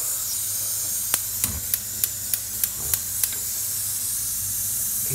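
A gas burner is turned up under a saucepan of water holding eggs. A steady hiss runs throughout, and a quick series of about eight sharp ticking clicks comes in the first few seconds.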